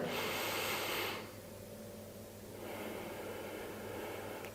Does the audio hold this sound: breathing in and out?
yes